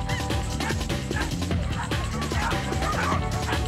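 Dogs bark and yip in quick, excited bursts at a dog race start, overlapping close barks with a handler speaking encouragement amid the noise.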